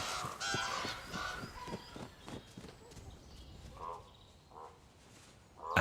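Ravens feeding at a carcass in a European taiga forest give harsh caws and croaks, a series of calls at moderate distance, with rustling and movement in between.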